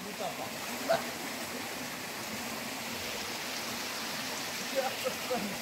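Water runs steadily from a mineral spring at the site of old thermal baths, a constant near rushing flow with a few faint brief sounds over it.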